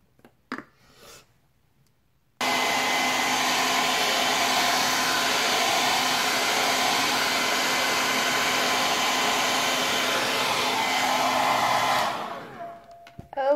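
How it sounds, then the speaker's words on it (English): A blow dryer drying fresh paint on a Gillio Compagna switches on after a couple of seconds of quiet and runs with a steady, loud airy whoosh for about ten seconds before cutting off. "so I have just finished blow drying this for about 15 minutes"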